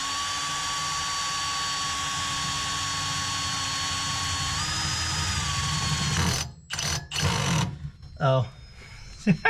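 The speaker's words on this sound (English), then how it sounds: "Should drill the pilot hole." A power drill whines steadily and loudly for about six seconds drilling a pilot hole for a Chevelle rear bumper, its pitch shifting slightly partway through, then cuts out into scattered bumps and short bursts.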